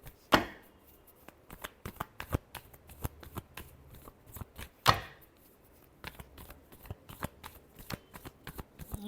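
Tarot cards are shuffled by hand in quick, irregular riffles of sharp slapping clicks, with two louder bursts standing out, close by and with no talking.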